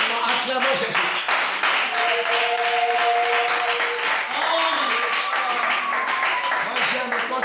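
Church congregation clapping and cheering during a French-language sermon, a steady wash of applause mixed with voices and sung or shouted tones, loud and continuous throughout.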